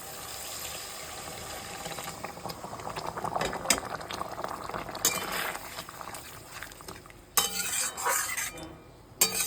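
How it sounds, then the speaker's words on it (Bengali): Hot water added to cooked-down spice paste in a pan for a fish curry, bubbling and boiling briskly at close range, with intermittent stirring and clinks of a spoon against the pot. "আমি এখানে গরম জল করে রেখেছিলাম, তো একটু গরম জল দিয়ে দিচ্ছি।"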